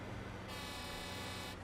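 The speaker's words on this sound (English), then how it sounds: "Who's honking the horn at me?" In a truck driving video game, a car horn sounds as one steady honk of about a second, heard over a constant low engine rumble.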